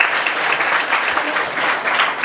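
An audience applauds young singers at a junior singing competition, dense steady clapping from many hands throughout, close and loud.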